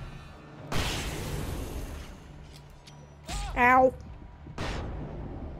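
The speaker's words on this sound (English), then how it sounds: "Just flashbangs out. All the flashbangs." Flashbang grenades bursting in the video game Alan Wake Remastered during a ghost town shootout, with two or three sharp broadband blasts a second or so apart over game ambience and a brief voiced exclamation.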